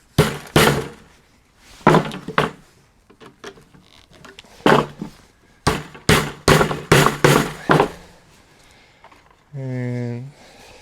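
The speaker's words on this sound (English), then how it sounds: "Trusty hammer." Hammer blows driving screws to mount a staghorn fern, sharp irregular knocks in clusters of several strikes with short pauses, close and loud, ending in a brief tonal hum.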